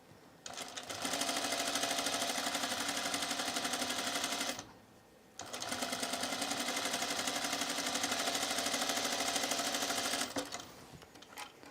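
A sewing machine stitches a dress in two steady runs of rapid, even mechanical chatter, separated by a short pause, close and clear with no talk.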